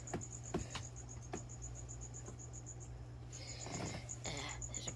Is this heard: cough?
no